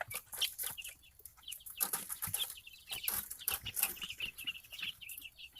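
Young chickens in a coop cluck and chirp, quiet and fairly close, with rapid uneven calls and some rustling or flapping between them.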